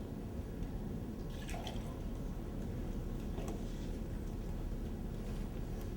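Water draining through gravel in a jar during a soil infiltration demonstration, a soft steady trickle with a few faint drips over a constant hiss.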